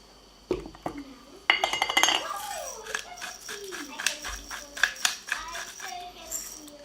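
Chopped fennel greens being mixed with salt and pepper in a glass bowl, giving light clinks and rattles of a utensil against the glass in irregular bursts, with a person talking over the mixing.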